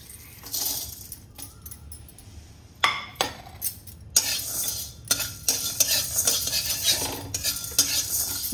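Garlic fries in a pan while being stirred, with repeated metal utensil scrapes and clinks over a steady low sizzle, louder bursts around the middle and end, and no talking.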